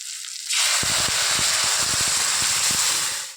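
Boiled curry hits a hot pan of fried vegetables with a sudden loud sizzle that jumps in and holds as a dense, steady hiss, dotted with small crackles and pops.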